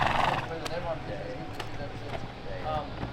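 Horses neighing at a rural Australian rodeo ground with bull riding and roping events, a whinny rising early, with hoof clops and background voices of a crowd throughout.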